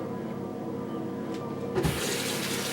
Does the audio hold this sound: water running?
yes